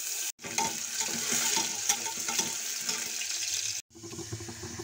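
Chopped ginger frying in hot oil with dry red chillies, cumin, cinnamon and bay leaf in a pressure cooker, a steady close sizzle with crackling pops that cuts out briefly twice.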